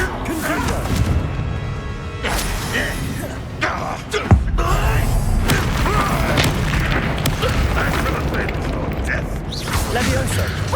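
Confringo explosion spell blasts in the Hogwarts Legacy video game, loud booming impacts and crashes over continuous battle noise, with a voice calling out spell names and other game dialogue mixed in.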